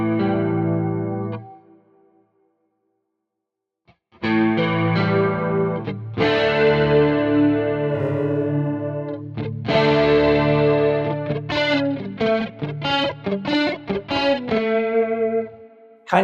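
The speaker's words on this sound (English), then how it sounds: "kind of hear it almost turns it into a little bit of a slapback effect" An electric guitar runs through a chorus effect with delay on a Quad Cortex, giving a slapback-like doubling; a sustained chord fades to silence, then strummed chords and choppy rhythmic stabs ring out with a shimmering, repeating tail.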